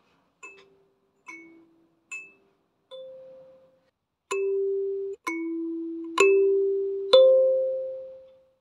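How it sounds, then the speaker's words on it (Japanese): Haneda Airport announcement chime, a series of clear bell-like tones: four short pings, then longer sustained ding notes rising in a melodic sequence, heard alone in silence. "あの羽田空港のチャイムは"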